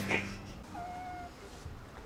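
A house cat gives a short, thin meow in an indoor room, a single faint drawn-out call close by with a soft chirp just before it.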